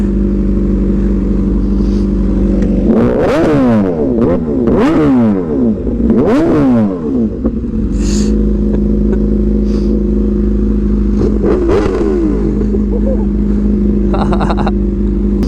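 A hyper naked sport motorcycle revs hard and accelerates up through the gears, loud and close, with rising engine sweeps, brief lulls and a steady idle drone between pulls.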